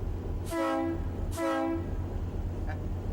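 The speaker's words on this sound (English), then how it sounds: "now I'm going to blow the horn, so cover your ears" Two long, loud blasts of a train horn at the Nevada State Railroad Museum in Boulder City, each about half a second, sounding over a constant low rumble of the engine.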